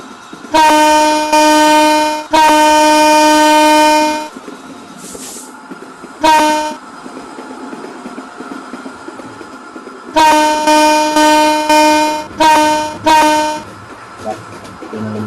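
Train horn blasts in the Train Simulator Bangladesh video game, several long loud toots in bursts with pauses, between quieter rumbling of the train running on rails.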